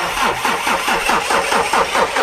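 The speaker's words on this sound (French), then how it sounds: "C'est normal aussi le bruit que le moteur fait?" A cold car engine cranks with a loud, rapid rhythmic starter churn and struggles to catch, close by with no voices.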